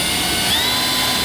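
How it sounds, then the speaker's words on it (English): A drill with a 13/64 bit whines loud and steady as it bores a hole through the metal roof of a 2018 Nissan van. "We're going to take a 13/64 drill bit, and we're going to drill our holes around the outside."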